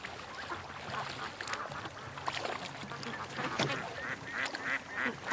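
Several ducks on a lake quack in a loose, overlapping chorus, short raspy calls coming from moderate distance against a steady outdoor hiss.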